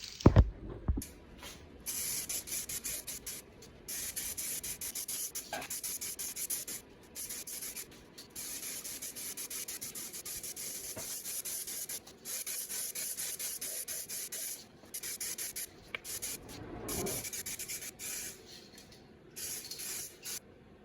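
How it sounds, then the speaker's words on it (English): Clear coat paint spraying from a can in a Honda Civic engine bay, a close steady hiss in long bursts broken by short pauses, with no talking. "just going to very carefully start to lay down our clear coat"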